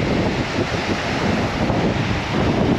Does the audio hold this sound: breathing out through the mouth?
no